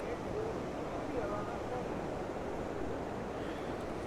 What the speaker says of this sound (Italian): Poi sentite il rumore dell'acqua.